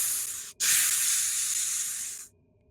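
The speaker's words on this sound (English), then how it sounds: "Steam vents and rushing water can be heard around you." A steam vent gives a strong, steady hiss after a brief cut near the start, then stops abruptly and leaves silence. No rushing water stands out.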